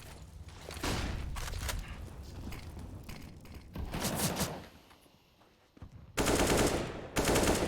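Bursts of AK rifle fire in a Counter-Strike-style esports match, rapid automatic volleys in several loud clusters with brief pauses, mechanical clicks between, and little speech.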